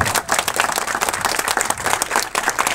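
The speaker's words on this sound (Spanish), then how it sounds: "Un fuerte aplauso para los músicos que nos están acompañando en la mañana de hoy" A crowd gives a strong round of applause for the musicians at a morning public event, loud dense clapping that carries on without a break.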